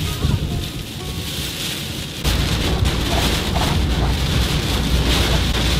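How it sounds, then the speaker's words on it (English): Rain falls at a campsite while strong wind gusts across the microphone, the downpour growing noticeably heavier and louder partway through and holding a dense, continuous roar. "Now raining a little bit more aggressively now."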